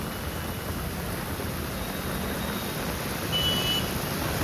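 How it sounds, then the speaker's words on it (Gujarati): Heavy rain pours down steadily during a flash flood in Surat, with water filling parking areas and roads; a dense, even roar of rainfall fills the scene, with no distinct thunderclap standing out. "અત્યારે તો સંભળાઈ રહ્યું હશે કે વરસાદ વધતો જાય છે."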